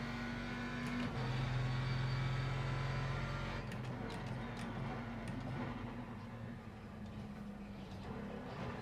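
A racing-simulator car engine drones and revs continuously, loud and close, its pitch shifting as the car accelerates and eases off, with faint clicks from the wheel setup underneath.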